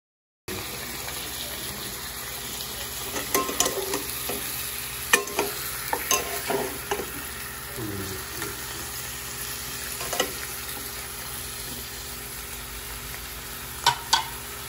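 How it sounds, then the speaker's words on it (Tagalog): Meat seasoned with soy sauce sautés in a pan, giving a steady, moderate sizzle throughout with scattered clinks and scrapes of a utensil stirring, plus a couple of sharper taps near the end. "Kasi mas gusto ko yung ginigisa talaga yung karne una."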